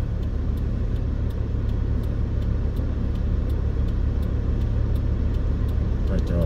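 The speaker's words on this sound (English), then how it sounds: "Must get noisy with all this traffic out here" Steady low rumble of road traffic at a busy corner on the east side of Las Vegas, with car engines droning continuously nearby, no voices, a constant dense hum throughout.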